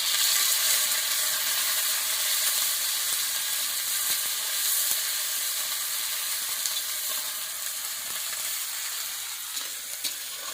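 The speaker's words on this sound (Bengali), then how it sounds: "তেলটা তো গরম হয়ে গেল, পেঁয়াজটা দিয়ে দেবো তেলের মধ্যে" Onions frying in hot oil in a home kitchen, a dense steady sizzle that stays close and loud throughout, with faint stirring scrapes and no speech.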